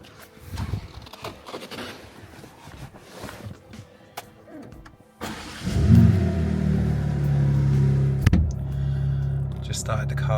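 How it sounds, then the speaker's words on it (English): Green 2021 BMW M3 Competition with a 3.0-litre twin-turbo engine fires up after quiet handling sounds inside the car, settling into a loud, close, steady idle rumble with a brief blip of revs. "Just started the car up."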